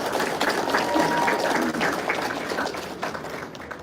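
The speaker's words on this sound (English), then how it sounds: "Let us give another round of applause to our chapter advisors and valedictorians." Audience applause at a school music honor society ceremony, a steady crowd clapping that holds fairly loud for a few seconds and then slowly thins out, with a faint voice mixed in.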